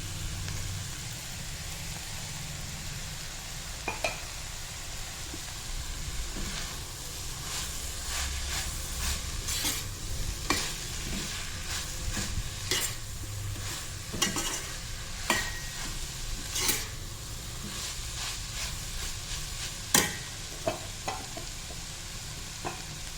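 Capsicum and spring onion stir-fried in a hot kadai, with a steady sizzle under repeated sharp scrapes and clinks of the spatula against the pan, continuing throughout.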